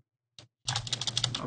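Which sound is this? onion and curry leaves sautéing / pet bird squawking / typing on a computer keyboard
typing on a computer keyboard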